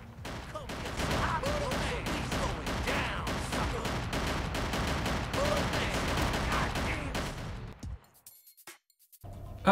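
Heavy, rapid bursts of gunfire fill a gangland shootout in the game Gangland, loud and almost continuous for several seconds before cutting off into near silence.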